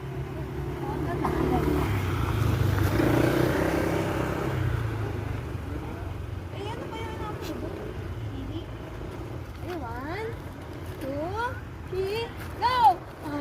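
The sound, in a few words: motorcycle passing by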